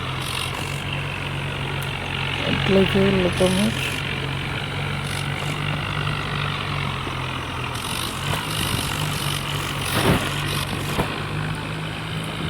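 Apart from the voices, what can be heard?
New Holland tractor engine running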